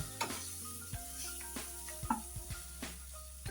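Butter sizzles and crackles in a pan as a little water is added, while a spoon stirs and scrapes against it, with a few louder clinks along the way.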